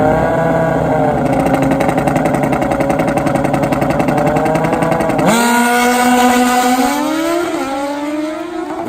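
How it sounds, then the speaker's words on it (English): A Suzuki Hayabusa and a Suzuki GSX-R 1000 nitrous drag race motorcycles blare loudly with high, buzzing engine tones that hold steady, then shift down sharply and climb again as they pull away. "young lady on the Gsxr 1000 or the gentleman far lane on the Suzuki Hayabusa"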